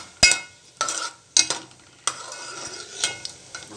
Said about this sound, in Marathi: खमंग वास येतोय मस्त तुपाचा आणि ह्याचा ड्रायफ्रूटचा. चांगलं एकदम भाजून घ्यायचं